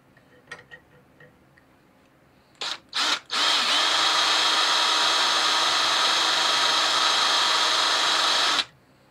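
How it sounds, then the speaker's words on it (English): A power drill fixed with a worn drill bit starts with a couple of short bursts, then runs steadily for about five seconds at a loud, constant whine before cutting off abruptly, set in a workshop for a garden tractor engine job. "That drill bit shot."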